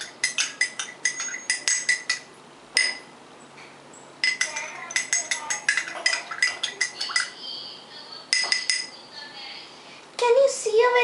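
A spoon stirs salt into water in a glass, setting off quick runs of bright clinks and taps against the glass in irregular bursts with short gaps, close and crisp.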